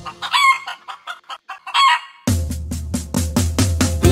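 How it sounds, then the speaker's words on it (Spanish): A hen clucks and a rooster crows in a children's animal-sounds song: rhythmic staccato clucks, a drawn-out crow, then a louder stretch of repeated clucking over a low musical backing. "Dime si tú sabes cómo hace la gallina, vamos a escucharla tú y yo."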